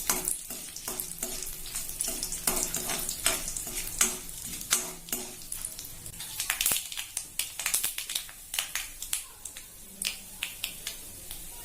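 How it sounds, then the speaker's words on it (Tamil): Mustard seeds, urad dal and dried red chillies sizzle and crackle in hot oil, with sharp popping bursts and a spoon stirring and scraping the pan throughout. "தாளிக்கிறதுக்கு எண்ணெய் விட்டுருக்கேன். இதுல உளுந்து, கடுகு, வரமிளகா போட்டுக்கலாம்"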